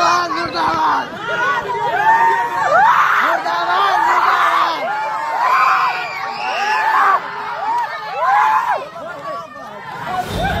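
A crowd in Muzaffarpur, Bihar, chants and shouts slogans in protest against JDU candidate Aditya Kumar of the Sakra constituency during an election campaign. Many voices yell rhythmically and loudly, with cheering and scattered screams.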